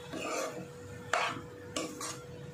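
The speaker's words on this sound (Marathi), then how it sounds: "आता आपण मिक्स करून घेऊया याला." Rice dish, made from leftover cooked rice with chopped vegetables and onion, stirred in a pot with a spoon. Soft rustling mixing with a few sharp scrapes and clinks against the metal, close and alone.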